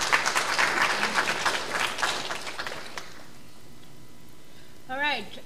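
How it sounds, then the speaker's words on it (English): Audience applause at a careers lunch-hour talk: a burst of clapping close by for a few seconds that thins out and fades, leaving quiet room tone before a short voice-like sound at the end. "a round of applause for Tanya, please."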